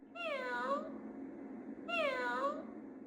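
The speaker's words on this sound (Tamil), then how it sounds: "இந்த டேபிள் மேலே இருக்க இந்த பூனாச்சி தான் கத்திருக்கு." A toy cat on a sound puzzle meows twice in loud, clear, rising-and-falling cries, separated by about a second of near silence and with a faint hum underneath.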